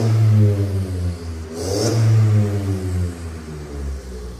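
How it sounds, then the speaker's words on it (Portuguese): A Volkswagen Jetta or up! with a TSI engine, sports muffler and exhaust tip idles with a deep burbling drone, then revs once in a quick rising snarl before settling back, close and loud. "Esse abafador que a gente colocou aí, o ronco tá bem louco"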